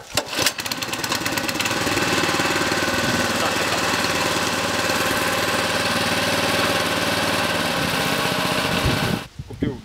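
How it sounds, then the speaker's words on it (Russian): A Kentavr 2080B walk-behind tractor's engine runs loud and close with a steady chugging rattle for about nine seconds, then cuts off abruptly. "Купил мотоблок 2080B."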